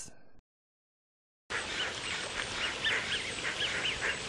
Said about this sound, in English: I'm in the heart of Beacon Hill Park doing one of my favorite free activities, feeding the ducks.